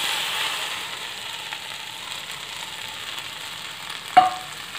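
Gram flour batter poured into a hot tempering in a pan fries with a soft, continuous sizzle while being stirred, ending in one sharp scrape or clink near the end.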